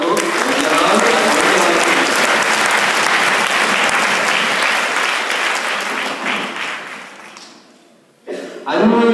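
At a devotional festival gathering, a large audience breaks into loud, dense applause that gradually thins and fades out, then a brief burst of sound returns at the end.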